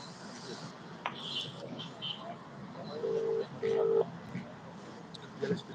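A telephone being dialed at an outdoor long-march protest, with two short keypad tones standing out over crowd murmur and nearby voices talking.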